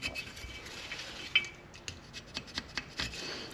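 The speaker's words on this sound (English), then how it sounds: "So we need to scrape what we can off." Scraper working deposits off a Kawasaki Prairie 400 engine part, a quiet run of short metallic scrapes and light clinks in uneven rhythm, close and fairly faint.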